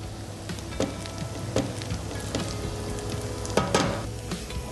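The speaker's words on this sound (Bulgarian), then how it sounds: "Всичко, което ще сложа в тигана, няма нужда да бъде готвено дълго време." Green vegetables sautéing in a pan for a quick pasta dish, a steady close sizzle with occasional sharp crackles and stirring clicks, no talking.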